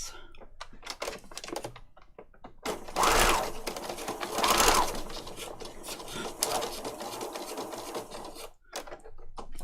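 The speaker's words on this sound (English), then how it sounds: "Need to sew around there." Sewing machine stitching around a paper patchwork piece, a rapid mechanical chatter that speeds up and slows in bursts, fairly close and continuous.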